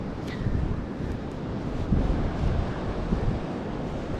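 Steady beach wind roars and buffets the microphone continuously, with a dull broadband rush and no other distinct sounds.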